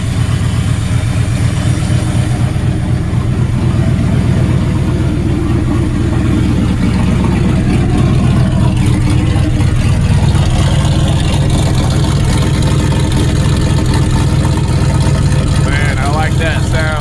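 A Ford engine idles through a straight pipe exhaust, with a steady, deep, loud rumble that runs throughout and picks up a faint lumpy pulse.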